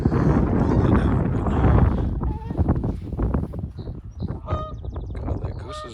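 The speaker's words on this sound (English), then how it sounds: "that goose is vocal all of a sudden" A goose by a lakeside honks in short repeated calls in the second half, fairly close, with wind buffeting the microphone and rustling noise beforehand.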